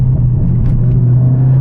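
A Mercedes CLA45s AMG engine drones with a loud, steady low rumble from inside the car, holding an even pitch throughout the short stretch with no clear rise or fall.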